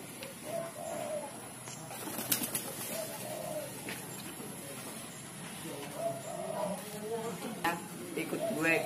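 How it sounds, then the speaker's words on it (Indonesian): Pigeons and doves in the bird zone of a zoo in Kalimantan Selatan, with soft cooing calls and brief wing flaps mixed into busy crowd chatter and background noise. "burung dara dan merpati."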